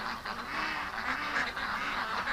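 A flock of ducks quacking in a steady, dense chatter as they move off across a yard, the calls overlapping continuously and close by.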